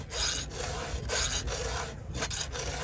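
A chainsaw chain tooth is hand-filed with light pressure, giving close, gritty rasping strokes. About three even, back-and-forth passes sound clearly on their own, with no talking.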